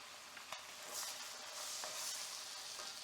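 Finnish vendace (muikku) fish frying in a pan, a steady soft sizzle throughout with a few light clinks and stirring taps.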